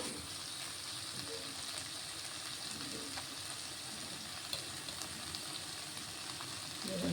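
Boiled egg noodles tumble into a hot pan and get stirred through a steady, even frying sizzle, with faint clinks and scrapes from a utensil, heard close and alone.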